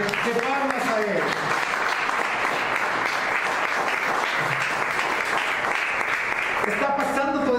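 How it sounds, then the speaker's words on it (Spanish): Church congregation clapping loudly and steadily as an offering of applause, a dense, sustained wash of hands filling the space, with a voice rising over it near the start and again at the end. "Den una ofrenda fuerte de palmas a Él"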